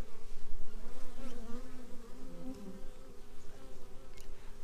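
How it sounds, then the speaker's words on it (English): Honey bees buzz in a healthy backyard beehive opened for inspection, with a few wasps around it: a dense, steady drone close to the microphone that swells and eases slightly without pause, and no voices. "Full of busy bees."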